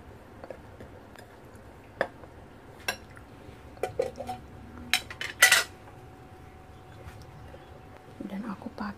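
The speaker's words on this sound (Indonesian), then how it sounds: "Diaduk." A spoon stirs two spoonfuls of sugar in a bowl, giving a few sparse, light clinks and scrapes against the dish in a quiet kitchen, with soft talk near the end.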